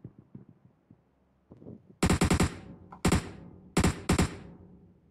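Gunfire in a shooting video game: loud, sharp bursts of rapid shots in four clusters, each a quick volley of several cracks, following quieter muffled thumps and movement sounds.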